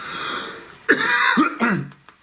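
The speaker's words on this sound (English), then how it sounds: "that's our second cough" A person coughs and clears their throat in two quick, harsh bursts, close and fairly loud.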